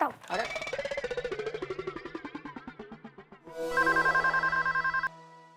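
A phone rings after a rapid warbling electronic tone sequence, the ringing pulsing steadily and fairly loud before stopping abruptly.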